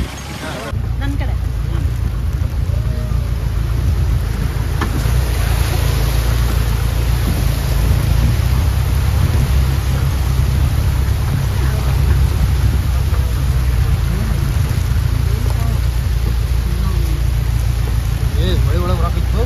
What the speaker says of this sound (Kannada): ಮಳೆ ಒಳಗೆ ಬರಾಕಿತ್ತು